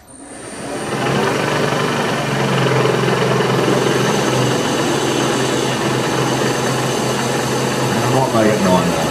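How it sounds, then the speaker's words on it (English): A machine drilling holes down to depth on a powered lathe slotter build runs as a steady, loud motor drone with broadband grinding hum throughout. "let's get these drilled down to depth."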